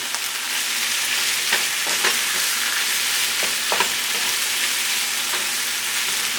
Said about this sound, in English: And we're just gonna pan fry this